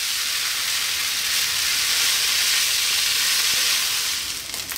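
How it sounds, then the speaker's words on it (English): Broccoli fried rice sizzles in a hot pan with a steady, close, crackling hiss that holds even throughout and eases slightly at the end, with no talking. "That is your rice frying"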